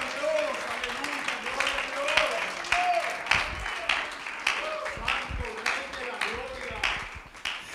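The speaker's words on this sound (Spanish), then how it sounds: "Puede brindarle un aplauso más bonito, acompañado de gloria, honra y alabanza." Applause from a large church congregation, steady clapping throughout with a voice or singing rising over it now and then.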